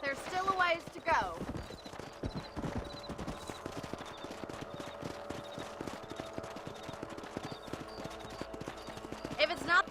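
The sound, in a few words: horse hooves while riding in the video game Red Dead Redemption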